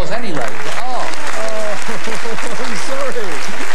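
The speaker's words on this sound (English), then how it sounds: "Round of applause anyway." Studio audience on the Crosswits game show applauding in a steady, loud wash beneath a voice talking over it throughout.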